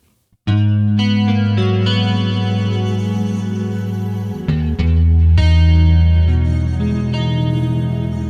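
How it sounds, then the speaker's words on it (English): Electric guitar chords played through a Polychrome DSP Hypertune ring out with delay, reverb and a shimmering chorus effect, sustained and swelling, with no voices. "put a little bit of delay, a little bit of reverb, chorus"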